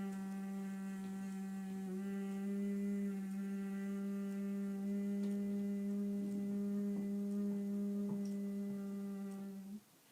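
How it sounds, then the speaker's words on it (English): A soft, steady human hum, the long bumblebee-breath exhale of Bhramari Pranayama in a prenatal yoga session, holds one even pitch for about ten seconds, quiet and alone before fading out. "but the exhale will be this humming sound"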